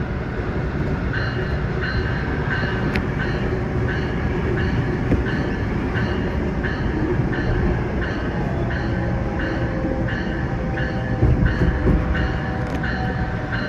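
A freight train hauled by a Bessemer and Lake Erie locomotive rumbles past steadily with rhythmic clacking of wheels over rail joints, a continuous heavy roar with occasional faint squeals.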